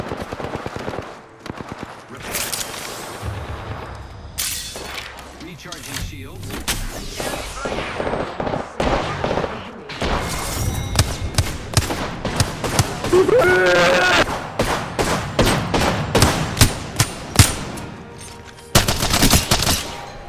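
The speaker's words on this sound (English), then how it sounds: "Firing!" Rapid automatic gunfire bursts and single shots in the video game Apex Legends, loud and close with short pauses between volleys, some distant shots, and a voice speaking over the action.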